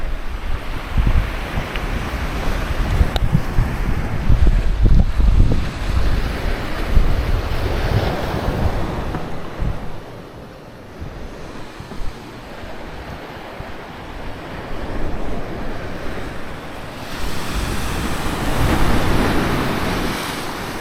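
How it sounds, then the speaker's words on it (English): Ocean waves break and surge on a Maui shore under gusting wind that buffets the microphone, a steady loud roar that dips briefly midway and then swells again, with no voices. "the waves over there are big, and you can see the kite surfers out there"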